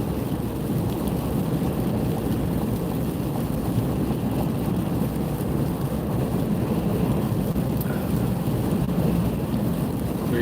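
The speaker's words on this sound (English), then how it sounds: "Raining quite hard." Heavy rain falls steadily and hard, a dense continuous roar with low rumbling underneath, constant in level throughout and with no voices.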